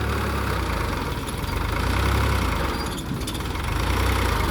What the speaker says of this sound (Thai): เครื่องยนต์น่าจะสามสูบนะครับ